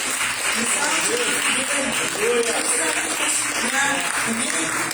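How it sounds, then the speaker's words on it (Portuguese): A church congregation at a Christmas service gives a round of applause, a steady, dense rush of many hands clapping together that fills the room without letup, with voices mixed in underneath. "dê um aplauso bem forte a Ele"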